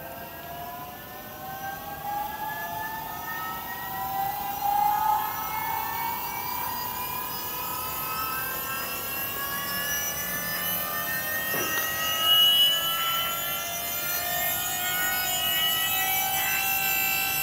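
Electric power steering pump running after being wired to a power source, a steady whine with rising and falling tones, holding near and continuous throughout.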